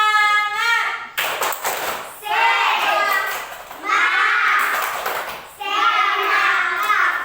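A primary school class doing a rhythmic spirit clap, bursts of many children clapping in a tight patterned beat alternating with the group chanting together in unison, loud and close in a classroom.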